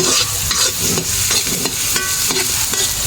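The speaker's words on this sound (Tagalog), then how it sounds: "igigisa muna natin itong napakaraming bawang na to" A large amount of garlic sizzles and crackles as it is sautéed in a pan, with stirring and scraping sounds through a steady frying hiss that stays loud and close throughout.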